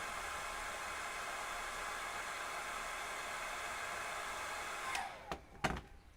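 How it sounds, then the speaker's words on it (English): A small air dryer blows on a painting, a steady whooshing hiss of air running continuously before cutting off near the end with a few clicks. "Love my air dryer."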